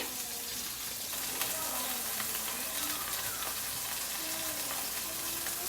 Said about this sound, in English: we're just letting those fish sear off nicely